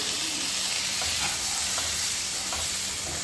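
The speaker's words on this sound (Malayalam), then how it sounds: "പിന്നെ തക്കാളി ചേർക്കാം." Tomatoes go into a frying spicy chili curry, a constant close sizzle and hiss with a few soft stirring scrapes scattered through it.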